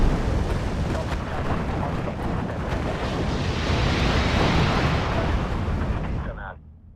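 Artillery salvo in the WWII strategy game Steel Division 2, a sustained loud roar of massed gunfire and rumbling blasts lasting most of the clip before abruptly dropping away near the end.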